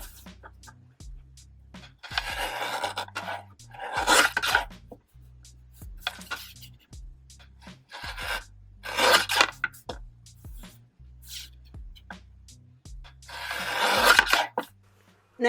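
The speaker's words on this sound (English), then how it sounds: "Once the labels are printed, you can cut them out. I'm using my paper trimmer" Paper trimmer blade slicing through printed Valentine sock-wrapper labels, heard as a series of brisk, close cutting swipes separated by short pauses, with no talking.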